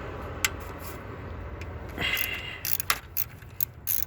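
Bolts being undone on the alternator bracket of a 2003 Lincoln Town Car, a run of quick metallic ratchet clicks in short bursts with light clanks of tools, close and clear over a quiet background.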